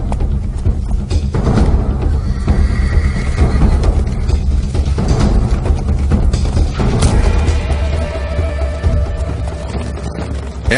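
A horse neighs at the Takeda horseback archery school in Kamakura, Japan, its whinny rising over a continuous busy background of thuds and movement for about ten seconds.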